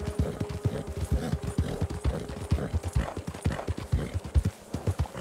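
Horse hooves clip-clop at a steady, close rhythm in the Western video game Red Dead Redemption 2, the rider's mount walking along with a brief snort or whinny, no talk over the hoofbeats.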